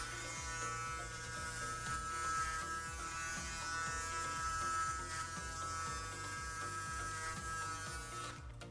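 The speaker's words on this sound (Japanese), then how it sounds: "上の髪の毛を押さえながら バリカンを入れてあげると 髪の毛が逃げずにきれいに刈り上げることができます" Electric hair clippers cut short men's hair into a spiky short style with a long taper, giving a steady, close, continuous buzz with no talking.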